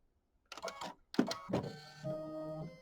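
An embroidery machine stitching a second set of satin stitches on a Kimberbell mini quilt, with a short whirring burst, a pause, then steadier mechanical running with a faint hum, close and fairly quiet.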